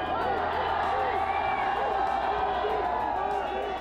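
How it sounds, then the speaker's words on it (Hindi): A large rally crowd in Haldwani cheers and chants for Modi, a loud, steady wall of voices and whoops with scattered clapping, filling the whole stretch without a break. "हल्द्वानी की गलियां मोदी मोदी के जय घोष से गूंज उठी।"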